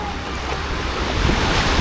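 Surf washes onto Eagle Beach in Aruba, a broad steady roar of gentle waves mixed with wind buffeting the microphone, swelling slightly toward the end.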